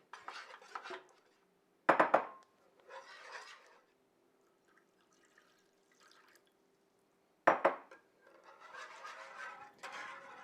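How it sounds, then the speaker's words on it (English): A whisk scrapes and clatters against a metal pot in a few vigorous bursts, working a milk and flour sauce for Greek pastitsio, heard close and alone with quiet pauses between the rounds of whisking. "I'm just going to continue whisking this vigorously to keep the lumps out of it."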